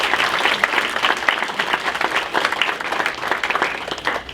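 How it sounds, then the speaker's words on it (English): An audience at a humanitarian awards evening at the Florida Holocaust Museum gives a round of applause, sustained and fairly loud, with individual claps audible in the busy texture. "I think that deserves a round of applause."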